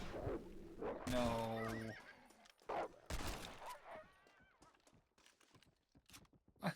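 A horse neighs in the video game Red Dead Redemption: Undead Nightmare. A loud, quavering whinny is followed by shorter snorts and clatter, and people talk intermittently around it.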